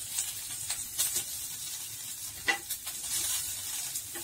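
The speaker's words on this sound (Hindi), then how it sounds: "कुछ इडली को मैं फ्राई करूंगी।" Wheat flour idli shallow-frying in hot oil, a steady close sizzle with short crackling bursts and soft stirring scrapes, no voices.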